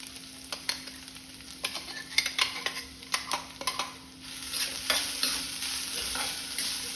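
Finely ground fresh coconut with a few cashew pieces roasts in a pan, stirred with a spoon in a quick run of scraping clinks over a soft sizzle, then settling into a steadier frying hiss, fairly quiet and without talk.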